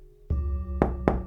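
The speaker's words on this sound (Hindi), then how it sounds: "दरवाजे पे ज़ोर ज़ोर से खटखट होने लगा" Three heavy knocks hit a door as a horror story sound effect. Each is loud, booming and close, and they land with irregular spacing in an otherwise quiet space.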